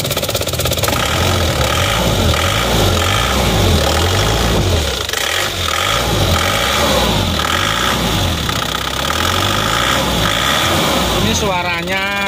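A cold car engine idles with a steady, rough, vibrating rumble and a slight knock, loud and close throughout, while someone talks over it.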